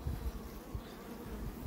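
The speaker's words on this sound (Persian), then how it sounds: "زنبور داره عصبانیه" Agitated honeybees buzz steadily around an opened hive after honey harvest, a dense continuous drone close by with no talk.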